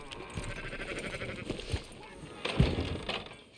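Sheep bleat repeatedly in the video game Red Dead Redemption 2 at moderate volume over a soft background, with a brief clunk partway through.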